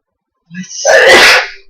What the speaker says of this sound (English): nobody talk for the next few seconds. I'm gonna sneeze.